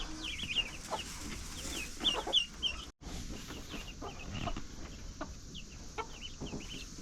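Chickens on a farm cluck and peep repeatedly in short chirping bursts, with other birds calling around them amid outdoor farmyard noise.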